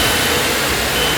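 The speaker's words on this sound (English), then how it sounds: "So what you're hearing right now is you're hearing the air being vacuumed out." Solar panel laminator in a factory vacuuming air out of a panel press: a loud, steady broadband whoosh and mechanical hum, continuous and close throughout.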